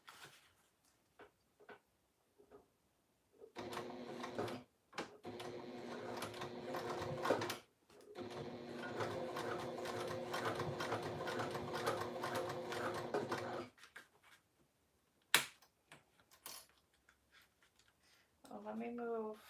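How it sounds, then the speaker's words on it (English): A home sewing machine stitches a zipper pouch: short starts, then two long steady runs of rapid mechanical needle chatter, separated by brief pauses, with a few quiet sounds and some talk around them. "Okay, so I'm just gonna sew."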